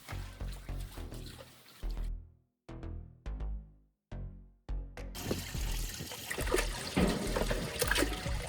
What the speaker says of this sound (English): We're gonna completely drain the turtle pond